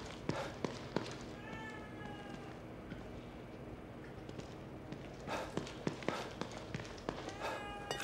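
A cat meows in The Evil Within 2, short mewing calls set among soft footsteps and taps in a quiet game scene, fairly close and alone without talk.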